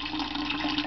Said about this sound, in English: And we're just pouring it in there